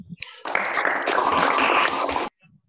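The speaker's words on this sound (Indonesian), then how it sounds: "Kasih tepuk tangan buat kelompok 3." A classroom of vocational high school students in Indramayu, Indonesia, applauds a presenting group, a dense burst of many hands clapping together for nearly two seconds before stopping abruptly.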